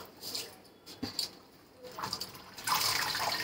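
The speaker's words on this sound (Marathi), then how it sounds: "याच्या नळाखाली 2-3 पाण्याने ती धुवून घेते भाजी बघा अशी" Tap water splashes over chuchu, a wild leafy vegetable, as it is washed by hand, quiet intermittent splashing that swells into a fuller, continuous rush near the end.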